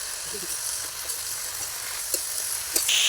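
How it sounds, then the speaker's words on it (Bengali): Potatoes and figs being stir-fried in a pan, a steady close sizzle with a few brief clinks and taps from the utensil, no talking. "সাত মিনিট মতো আলু আর ডুমুরটাকে ভালো করে কষিয়ে নিয়ে"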